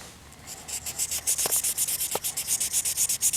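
Sandpaper of 400 grit rubbing along a Condor Bushlore knife blade, heard as a steady run of close, rhythmic scraping strokes that gets quicker and louder toward the end, with no talking.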